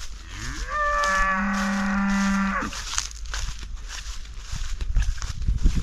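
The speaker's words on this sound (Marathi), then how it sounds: "एखाद्या गाईचा हंबरण्याचा आवाज." A cow gives one long, loud, close moo that holds steady for about two seconds and then trails off, with quieter rustling and shuffling outdoors afterward and no talking.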